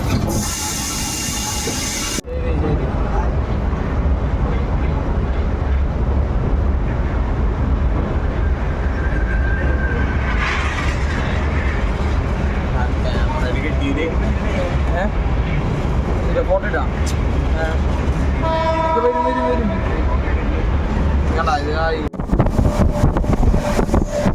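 A passenger train in India rolls steadily on its way to Ottapalam junction, heard from on board as a constant rumbling wash with rattling and wind noise, a voice talking over it throughout.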